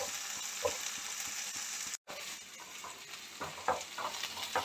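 Onions browning in a pan for lanku ki sabji give a steady soft sizzle with occasional stirring scrapes and clicks, then a brief dropout midway, with no voices.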